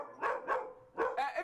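A dog barks four times in close succession, sharp and fairly near, in two quick pairs separated by a short pause.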